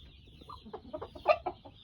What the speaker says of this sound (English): A whole lot of black chickens in here.